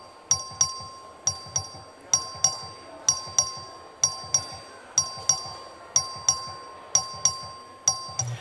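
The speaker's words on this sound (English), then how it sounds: "The clerk to ring the bell." Voting bell in the Texas House chamber, rung by the clerk for a record vote: a loud, bright electric ding-dong chime repeating in steady pairs of strikes, about twenty tones in quick rhythmic succession with no talking.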